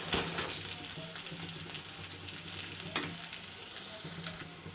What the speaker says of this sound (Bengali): এবারে দিচ্ছি আদা বাটা দিয়ে ভালো করে ভেজে নেব, যেন তার কাঁচা গন্ধ না থাকে।